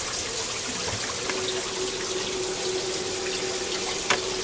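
Hot water is poured into a quail egg incubator with a steady, soft trickle and splash that runs on without a break, heard close up with no talking.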